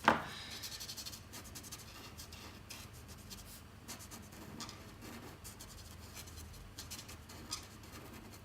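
A felt-tip marker in cool grey 7 rubs steadily across paper, a faint, close, continuous scratchy coloring sound with small strokes and pauses.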